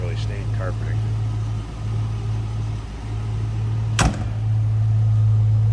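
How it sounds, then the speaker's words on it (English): A 1991 Ford Mustang LX convertible's door shuts with a single solid thunk over the steady low hum of the idling car. "Door closes nicely."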